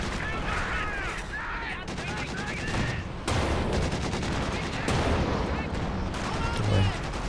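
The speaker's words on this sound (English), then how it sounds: "Tank guns getting to work on the Soviet Jackson." Tank guns firing in a Company of Heroes 2 multiplayer battle, booming blasts amid continuous crackling small-arms and artillery fire, with a commentator's voice running underneath the steady wall of combat noise.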